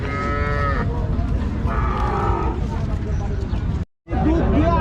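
Cows and calves at a busy cattle market, two loud, close drawn-out moos one after another, then a brief cutout, with a babble of people talking throughout.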